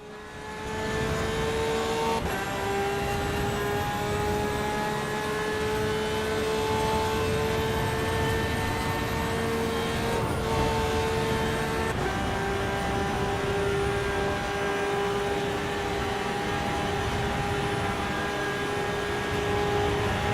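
A Lamborghini race car in Assetto Corsa EVO at the Nürburgring, its engine a sustained high-pitched drone with steady harmonics, stepping up in pitch through gear changes, loud and continuous throughout.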